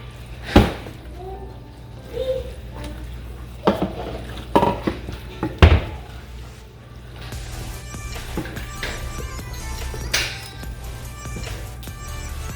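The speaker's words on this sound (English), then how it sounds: "Just kind of stir that in." Meat with taco seasoning stirred in a pan on medium heat, with scattered spoon knocks and scrapes against the pan, a few sharper clanks early on, then softer sizzling and stirring, no speech.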